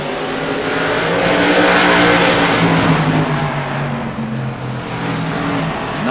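CRA stock race cars battle closely for the lead at Langley Speedway, engines roaring loud and steady as the pack sweeps past, with a rising and falling whine and no talk.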